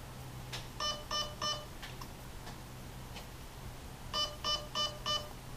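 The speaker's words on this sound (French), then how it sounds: "dès que vous avez 4 bips d'affilée, c'est le mode semi." Two bursts of short electronic beeps from an airsoft M4 setting its fire mode, first three and later four in a row, four signalling semi-auto, faint and evenly spaced over a quiet background with a few soft clicks.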